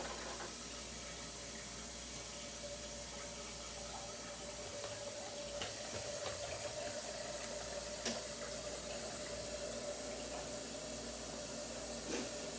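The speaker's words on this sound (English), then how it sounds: "I'm just running cold water on there" Cold water runs steadily from a kitchen tap while cooking mac and cheese with shrimp, a constant hissing splash that stays even for the whole stretch, with faint kitchen clatter and no talk.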